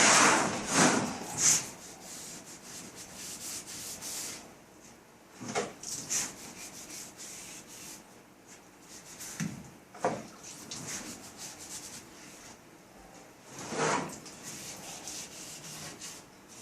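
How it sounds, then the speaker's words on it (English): Brush scrubbing liquid stripper on a Drexel Heritage dining chair: quiet, irregular bursts of scratchy rubbing strokes with pauses between them, close by and without talk. "and I'm going to scrub it, and then I'll wipe it down"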